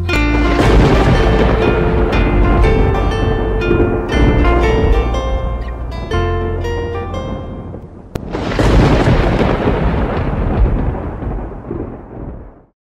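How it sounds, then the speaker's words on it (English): A thunder sound effect rumbles and booms through a nursery rhyme song, loud and rolling over musical tones, fading out at the end. "I hear thunder, oh don't you, oh don't you."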